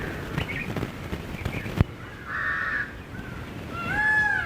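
A peacock near the seashore at Mastram Dhara, Talaja, gives two drawn-out wailing calls at moderate distance over steady outdoor background noise, with a single sharp knock between them.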